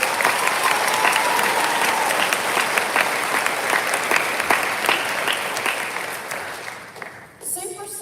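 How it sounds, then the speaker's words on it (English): Audience applauding graduating seniors at the JP Knapp 2022 graduation ceremony: sustained, dense clapping from a large crowd that holds steady for several seconds, then thins and tapers near the end. "Let's give them a round of applause."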